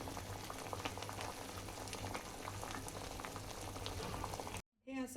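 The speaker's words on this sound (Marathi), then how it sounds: "असा चांगला निर्गुंडी आणि शेवग्याचा काढा म्हणजे पानं ही अशी चांगली उकळून घ्यायची आहेत" Nirgundi and drumstick leaves boiling in a pot of water for a herbal decoction, a faint steady bubbling and simmering that runs evenly throughout, then cuts off abruptly at the end.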